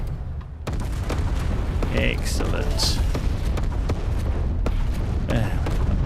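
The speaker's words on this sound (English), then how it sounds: "Gonna be a big explosion." Spaceship blowing up in the space combat game EVERSPACE 2, a dense sustained roar of booming blasts and crackling debris filling the scene, with someone talking briefly over it.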